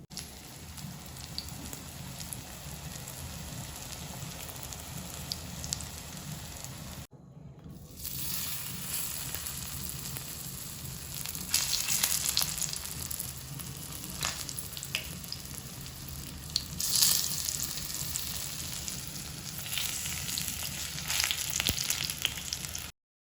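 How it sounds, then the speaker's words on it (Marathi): Colocasia leaf aluvadi rolls deep frying in hot oil, a steady close sizzle and crackle running throughout with a brief drop-out near the start and louder bursts of popping later on. "असेच हे पण आपण फ्राय करून घेऊया"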